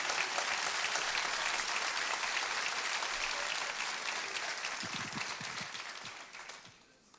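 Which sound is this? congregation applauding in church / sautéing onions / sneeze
congregation applauding in church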